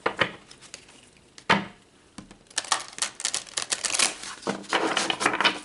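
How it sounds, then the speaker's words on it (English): Tarot cards are shuffled and pulled by hand, giving sharp papery slaps and riffling clicks in irregular bursts, with a quiet gap before a busier stretch of close, crisp card handling. "So let's pull some more cards."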